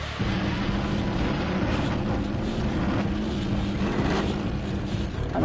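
A motorbike engine in the Jak and Daxter video game drones steadily for several seconds, a dense, even roar with no speech over it.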